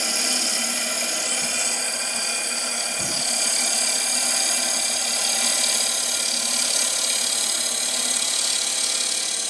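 A wood gouge cuts a bowl spinning on a lathe, giving a steady, hissing scrape that runs unbroken for the whole stretch, with one short dip partway through. No one talks over it.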